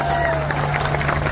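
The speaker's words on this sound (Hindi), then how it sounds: "उस बच्चे के लिए जरा तालियां बजाओ" Dense applause and crowd noise from a political rally fill the brief moment, steady and loud throughout, with a low steady hum underneath.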